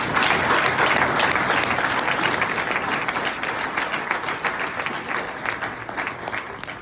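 A conference audience at a Black Men in White Coats gathering gives Dr. Shamsuddin another round of applause. The clapping is loud and dense at first, then thins into scattered claps as it tapers toward the end.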